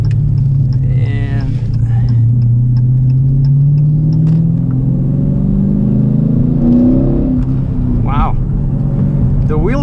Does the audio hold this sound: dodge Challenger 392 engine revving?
yes